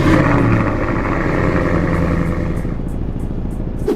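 Car engine revving in the mobile driving game CDID (Car Driving Indonesia), a loud, steady mid-pitched drone that holds throughout with slight clatter and no talk over it.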